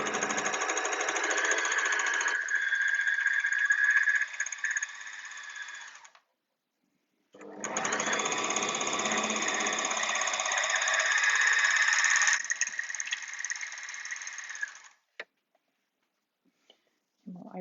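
An overlocker sewing machine stitches a long seam in fabric, whirring loudly and steadily in two long runs separated by a short pause, each run ending with a click as it stops.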